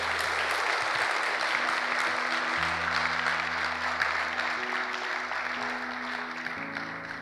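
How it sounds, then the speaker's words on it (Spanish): A church congregation applauds at length during a sermon, a sustained, full roar of many hands clapping evenly, with low sustained instrument tones underneath. "dale un aplauso al Señor"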